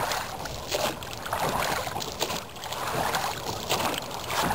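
A canoe fitted with a rowing attachment is rowed on the water, with soft rhythmic splashes and oar strokes repeating steadily alongside light wind noise, close and fairly quiet.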